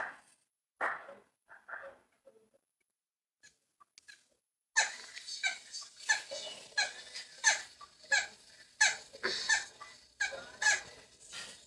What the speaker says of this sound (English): That's my Parrot.